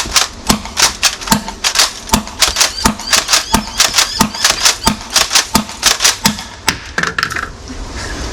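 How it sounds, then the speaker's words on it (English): A Nerf Mega Thunder blaster with an HPA mod fires Worker Gen 3 darts at 120 psi outdoors, giving a rapid string of sharp, loud pops at a steady rhythm, each with a short hiss of released air. "We'll take it outside now, fire some darts, and see what we can hit."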